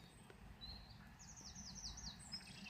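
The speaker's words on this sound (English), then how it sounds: "listening to the bird song" Birds sing outdoors with repeated high chirps and warbling phrases, fairly faint and at a moderate distance over a steady low background rumble, with no voices.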